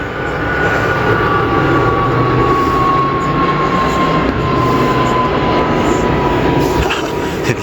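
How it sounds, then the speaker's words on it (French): A large Airbus airplane approaches overhead with a steady, loud engine roar and a thin whining tone that slowly drifts lower, close and unbroken throughout. "On a un autre avion que ça approche."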